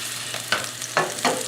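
Bánh xèo, Vietnamese crepe batter, sizzling in a hot pan, with three or four loud hissing bursts over a steady frying crackle and no talk.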